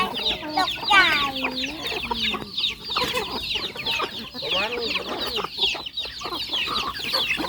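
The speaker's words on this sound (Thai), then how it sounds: "ไก่เนื้อสองตัวนี่นะครับเป็นไก่พันนะครับ ไม่ใช่ไก่บ้าน" Farm-bought meat chickens feeding on unhusked rice cluck steadily and close by, with overlapping calls and occasional squawks throughout.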